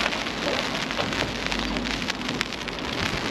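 Rain falls steadily outdoors, a close, dense patter with scattered louder drops and no voices.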